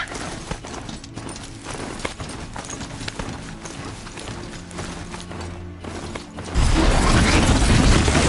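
Mechanical strider mount galloping in Horizon Zero Dawn, rapid hooflike clip-clop beats mixed with whirring, clicking machine mechanisms, loud and close, then swelling into a broad rushing roar near the end.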